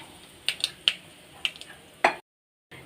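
Mustard seeds, fenugreek, chana dal and skin-on peanuts dropped into hot oil, soft sizzling with a handful of sharp crackles and pops, close and fairly quiet, ending in a brief silence.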